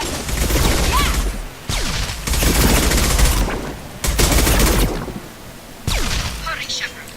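Heavy shotgun blasts and rapid gunfire in the sci-fi shooter Mass Effect 2, coming in loud, sustained bursts separated by brief pauses, with a voice shouting between volleys.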